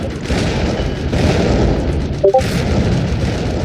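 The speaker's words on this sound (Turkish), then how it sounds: "Oğlum tank anında bizi patlattı lan" A tank explosion in a Roblox game, a loud sustained booming rumble with a sharper burst near the middle and no talking.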